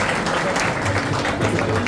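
An audience claps steadily and densely throughout at a village felicitation ceremony honouring a kirtankar, with a faint murmur of voices underneath.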